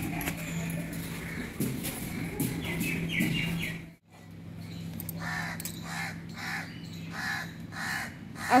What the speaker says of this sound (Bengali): আসলে কাকটা খুব ডাকছে,